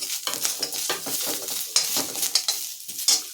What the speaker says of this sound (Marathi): खोबऱ्याचे काप थोडासा लसूण आणि थोडंसं अद्रक हे पण आपण भाजून घेऊया